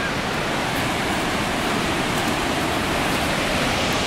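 A steady, loud rush of falling water from Sahalie Falls in Oregon fills the whole clip, a dense broadband roar with no breaks and no voices.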